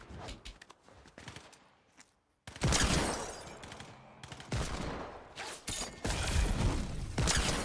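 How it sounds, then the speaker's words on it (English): NPC gunfire in a shooter video game, with a soft stretch of scattered clicks and footsteps, then loud, dense bursts of shots crackling near and continuously for several seconds. "This NPC is shooting over here."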